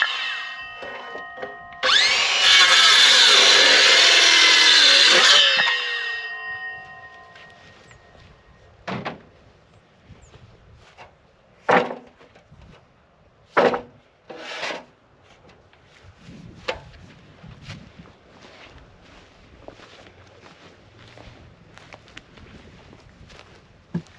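A saw cuts through a wooden board for a greenhouse wall frame in one loud, roaring pass of a few seconds. Sharp wooden knocks and clatters follow as the pieces are handled.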